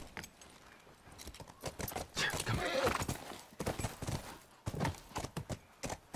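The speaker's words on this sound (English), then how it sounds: "Time to go on the horse." A horse in The Last of Us video game clip-clops with steady hoof beats and neighs, mixed with game sounds and faint talk over the top.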